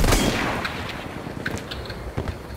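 Gunfire in Battlefield 1, a loud opening report followed by a few scattered sharper shots and impacts over a decaying rumble, with no talk.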